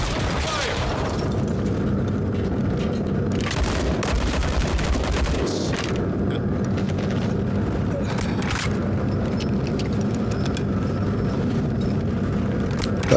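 Gunfire in the video game Star Citizen during a security mission: loud, dense, sustained bursts of shots and booms that continue almost without pause throughout, with a layered battle din beneath.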